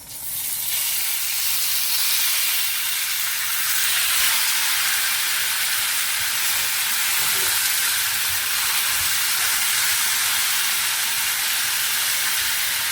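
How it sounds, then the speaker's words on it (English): Pepper steak sizzles in hot oil in a pan with a steady, loud hiss that continues without a break. "I'm gonna start frying up this"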